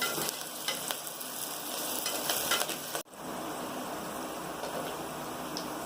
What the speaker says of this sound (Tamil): இந்த ஸ்டேஜில் 2 பச்சை மிளகாய் நீட்டு வாக்கில் கட் பண்ணியிருக்கேன், அதையும் ஆட் பண்ணியிருக்கேன். நல்லா பொன்னிறமாக வதங்கட்டும்.